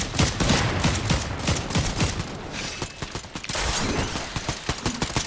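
Gunfire in a multiplayer shooter video game rings out in rapid, loud volleys of shots, bursts overlapping almost continuously for several seconds with a brief lull in the middle.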